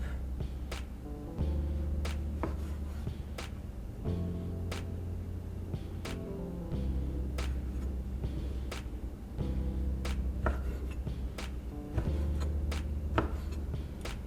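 A knife chops repeatedly through chicken on a cutting board, cutting it into bite-sized pieces, sharp irregular taps spread across the whole stretch over a low steady hum.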